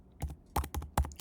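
Three quick bursts of clattering keystrokes on a computer keyboard, close and fairly quiet, spaced out with short pauses.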